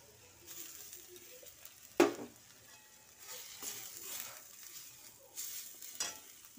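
Red chilli, coriander and cumin powders with ginger frying in a pan, a soft continuous sizzle broken by a sharp utensil knock and light scraping stirs.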